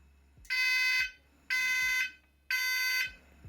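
Fire alarm in student housing sounding three long, loud electronic beeps of about half a second each, spaced evenly about a second apart, with nothing else audible.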